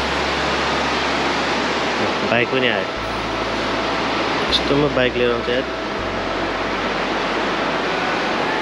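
The large Trisuli river in Nuwakot rushes past with a loud, steady roar, while a low motorcycle engine hum shifts underneath and someone talks briefly over the water.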